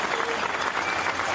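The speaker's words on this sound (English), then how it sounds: "Round of applause." An audience applauds in a played video clip, a brief, loud, steady burst of dense clapping from a large crowd.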